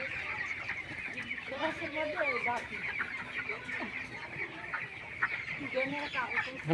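Broiler chickens on a poultry farm cluck and call continuously throughout, a busy flock chorus at close to moderate distance, with a few faint voices mixed underneath.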